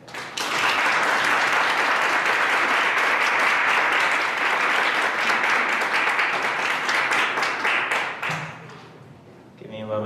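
Sustained loud applause from a lecture audience at The Evergreen State College–Tacoma greets guest lecturer Andres Esparza, dense clapping that fades out after about eight seconds, followed by a few faint sounds.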